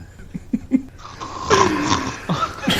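A rough, rattling snore rasps loudly for a moment after a few short snorting breaths, sounding close and likely made by a person imitating it.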